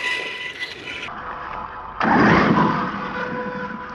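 A toy vehicle's small motor whirs close up and then surges louder as the throttle is pulled, a brief buzzing rise that settles back into a steady hum.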